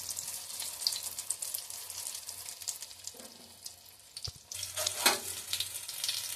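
Egg Moghlai, a stuffed flatbread, frying in hot oil with a steady, dense sizzle throughout, swelling louder near the end as the food shifts in the pan; no talking.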